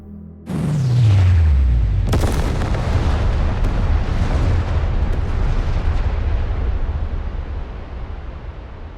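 Thermonuclear warheads detonate as a sci-fi audio drama effect: a sudden deep boom swells into a second blast, then a long roaring rumble that slowly fades, with no voices.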